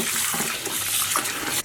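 Tomatillos being rinsed under a running kitchen tap, a steady close splashing of water into a sink with no talk.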